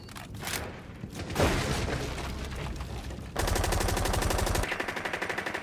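Rapid automatic gunfire in Rainbow Six Siege, close and loud, starting with scattered shots and an impact, then a long, evenly spaced burst of shots near the end.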